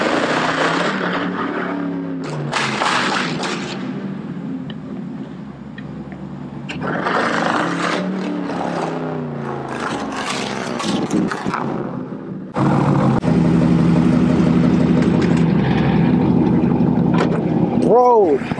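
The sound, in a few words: Jeep SRT engine revving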